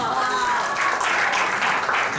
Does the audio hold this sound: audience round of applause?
yes